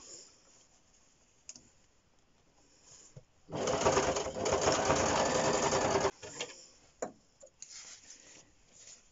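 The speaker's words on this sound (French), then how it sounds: "je vais commencer par piquer mes ourlets" A sewing machine stitches the hems of fabric face masks in one steady run of a few seconds, with quieter clicks and handling sounds before and after.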